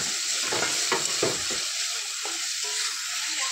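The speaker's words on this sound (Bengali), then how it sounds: "আদা রসুন দিয়ে দিলাম পেঁয়াজ কুচি, নাড়াচাড়া করে নিচ্ছি" Ginger, garlic and chopped onion frying in a pan for a broiler chicken and bean curry, a steady sizzle with several close spatula scrapes early on, then quieter frying.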